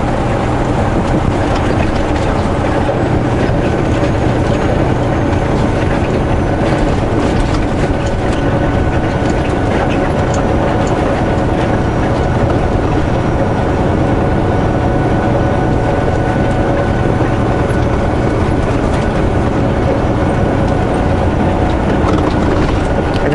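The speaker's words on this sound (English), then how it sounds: "There's another SkyTrain." A Vancouver SkyTrain rumbles past on a ride along narrow Greater Vancouver roads, a steady loud low drone with broadband rail noise holding throughout, no talk over it.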